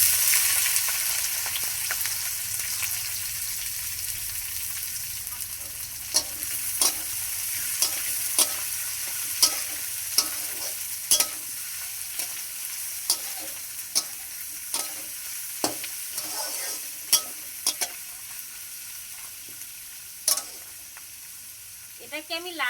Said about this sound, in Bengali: এটাকে আমি লাল লাল করে ভেজে নেব।